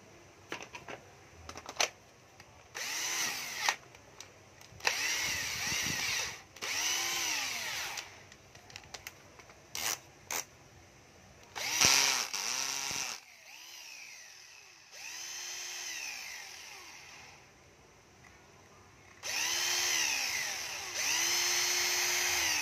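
A cordless brushless drill with a 10 mm chuck starts and stops repeatedly in short and longer bursts, its whining motor rising and falling in pitch, heard close with quiet pauses between runs.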